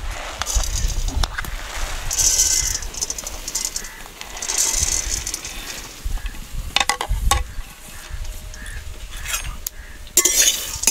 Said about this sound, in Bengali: এবার আমি এই কড়াইতে গমগুলোও ভেজে নেব